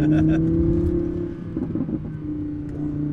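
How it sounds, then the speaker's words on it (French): Audi R8 V10 Plus engine revving close by, a steady deep drone with a brief surge of throttle in the middle, loud and continuous with no talk over it. "J'adore la sonorité. Ouais, Le bruit. V10 là, il est juste derrière nous"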